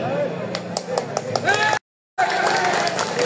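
Scattered audience claps ring out at an outdoor political rally in Nageshwari, Kurigram, as sharp repeated taps under a man's amplified speech, broken by a brief silent gap.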